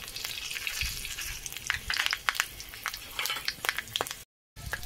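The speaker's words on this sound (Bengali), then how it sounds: "গরম মশলা ভাজা হয়ে গেছে" Whole spices (cinnamon, cloves, mace, cardamom) sizzle and crackle in hot oil, with a steady frying hiss and occasional sharp pops and stirring sounds close up.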